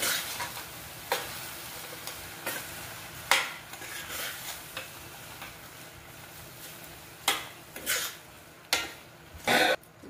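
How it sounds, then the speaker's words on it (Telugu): Sugar being stirred into carrot halwa in a pan, heard as a series of sharp, separate scraping clatters of a spoon against the pot over a soft, steady sizzle, with no talking. "1 కప్పు చక్కెర వేసుకోండి. కలుపుకోండి."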